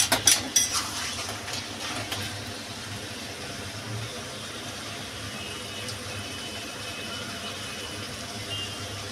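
Flour being whisked into a batter in a bowl for a bottle gourd and prawn ghonto, with clinking utensil scrapes at the start, then a steady low kitchen hum.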